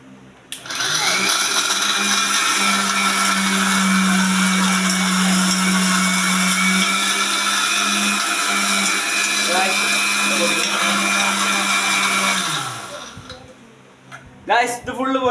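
An electric mixer grinder runs steadily while grinding ingredients for gulab jamun, a loud, even whirring drone lasting about twelve seconds before it winds down, then a few clicks and rattles.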